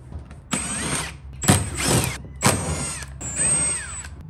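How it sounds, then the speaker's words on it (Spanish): A power screwdriver backs out screws on a boat to make room for a Torqeedo electric motor base, four short close whirring bursts separated by brief pauses. "Vamos a quitar estos tornillos para poder montar la base del torquido."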